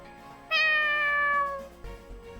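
A black cat in the visual novel Fatal Twelve gives a single clear, drawn-out meow lasting about a second, close and loud, trailing off into quiet.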